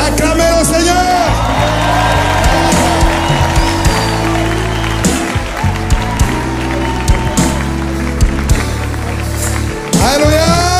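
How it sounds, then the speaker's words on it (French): A church congregation at a deliverance prayer service cheers, whoops and claps loudly and continuously, with shouted voices rising above the crowd and a preacher's amplified voice heard at times. "acclamez le Seigneur"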